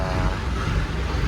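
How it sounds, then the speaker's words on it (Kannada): The engine of a passenger boat from Mangalore idles just after starting, a steady low rumble and drone close by with some wind buffeting, continuous and fairly loud. "ಇಂಜಿನ್ ಸ್ಟಾರ್ಟ್ ಆಯಿತು."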